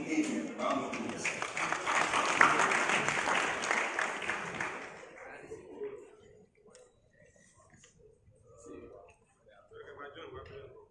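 An audience applauds to welcome the CEO of Ghana's Cocoa Board to the stage, dense clapping for about five seconds that tapers into scattered claps and quiet room noise.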